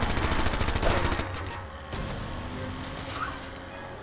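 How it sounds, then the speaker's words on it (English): Machine guns mounted on a taxi in Zombie Driver fire a loud rapid burst for about a second, then the car engine and scattered game sounds carry on more quietly. "I have a taxi with motherfucking machine guns"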